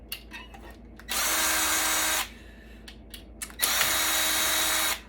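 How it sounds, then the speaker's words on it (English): A power drill backs screws out of a Dell PowerEdge R150 server during a teardown, with two loud, sustained whirring bursts of about a second each, separated by small clicks and handling noise. "I think I have to unscrew all this."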